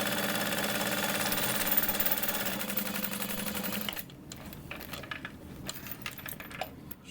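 A sewing machine stitching a seam on a bubble bag, a fast, even mechanical whir for about four seconds, then stopping, followed by quieter handling clicks and rustles.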